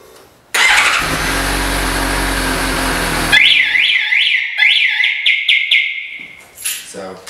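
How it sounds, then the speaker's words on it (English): A Suzuki GSX-S750 motorcycle cranks and roars loudly for a few seconds, then its anti-theft alarm breaks into a loud, close, rising-and-falling warbling siren that fades out in short bursts. "will only set the alarm off if you attempt to start the motorcycle"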